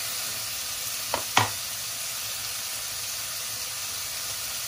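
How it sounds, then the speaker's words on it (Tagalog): Tomatoes sizzle in a pan with a continuous bright hiss. Two quick clinks or stirs break through early on. "Lutuin na natin ang kamatis."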